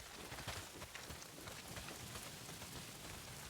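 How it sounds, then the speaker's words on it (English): Heavy rain pours down in the video game Days Gone, a dense, even hiss of drops pattering on surfaces with faint low rumbles beneath, steady and unbroken throughout. "Well, not if it's pissing down rain."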